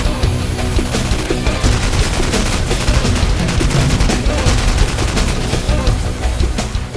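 Real guns fire at an indoor range of a Las Vegas gun store, producing a dense, loud stream of rapid overlapping shots, like automatic bursts, that continues without pause.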